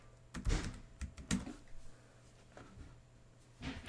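Fingers type a few quick, scattered keystrokes on a computer keyboard, soft and close, in short clusters with pauses between them.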